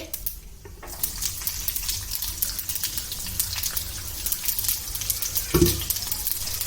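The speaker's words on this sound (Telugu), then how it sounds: "ఈ టైంలో ఉల్లిపాయలు వేద్దామండి" Onions dropped into hot tempering oil sizzle and crackle steadily in a pan, with a brief louder clatter near the end and no talking.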